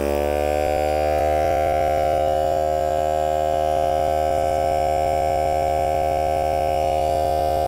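A vacuum pump with a vacuum leak runs with a steady loud mechanical hum and a fast rhythmic pulsing, droning continuously without any talk.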